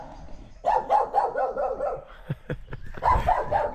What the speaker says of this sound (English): Dog's all muddy.